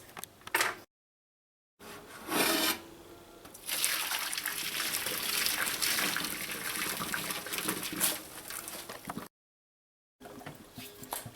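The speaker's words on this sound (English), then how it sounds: "take it over to the sink and throw away this water" Hot saltfish cooking water poured from a pot into a kitchen sink, a gushing, splashing stream that swells and fades in bursts, separated by brief silent breaks.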